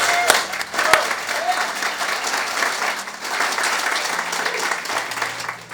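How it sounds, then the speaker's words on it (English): Audience applause at an EMT graduation gala, sustained dense clapping from a large crowd with a few sharp close claps standing out and a brief vocal whoop early on. "Let's give them a round of applause."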